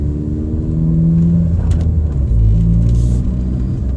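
A Ford Focus ST fitted with an Invidia Q300 exhaust idles and revs close by with a deep, bassy rumble, the note swelling and settling a couple of times, with no talking.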